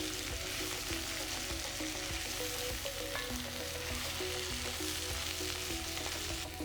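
Jackfruit seeds and green mango fry together in a pan for a Kerala stir fry, a soft, continuous close sizzle broken by light stirring clinks and scrapes, with no talking.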